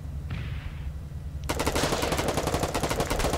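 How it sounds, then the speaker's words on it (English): Automatic gunfire aimed at a gate in the Foxhole video game opens in a loud, rapid, sustained burst midway after a quieter ambient start, rattling continuously to the end. "Am I even hitting the gate or am I shooting through it?"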